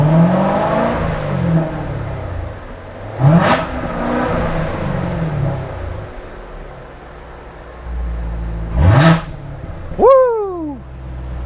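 A car's dual mode exhaust opening under throttle, a deep loud engine rumble that swells into revving pulls twice, with a rising whine and brief whoosh between bursts.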